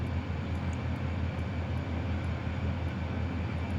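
A small plane's engine in MS Flight Simulator drones steadily on the ground before takeoff, a continuous loud low hum with a faint propeller throb and no breaks.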